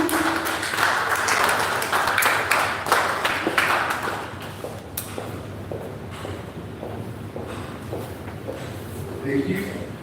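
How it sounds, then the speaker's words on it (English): An audience in Accra claps to welcome someone speaker at a freedom dialogue event, a burst of scattered hands that thins out and fades after a few seconds into room noise and faint murmuring. "So with a round of applause, can we welcome Sister Caroline?"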